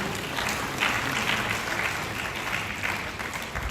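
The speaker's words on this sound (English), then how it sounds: "Please, a round of applause for him." Audience applause for a museum director's keynote at a royal commemoration ceremony, a steady crowd of clapping hands sustained evenly throughout, moderately loud and without speech.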